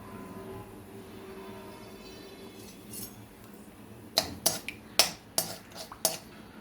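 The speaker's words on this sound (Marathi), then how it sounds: "तेल तापलं आहे, जवळ अर्धा चम्मच टाकते मी राई. हे बघा कशी कडकड करते." Mustard seeds crackling in hot oil in a pan, a quiet stretch and then a burst of sharp, irregular pops and spits close by.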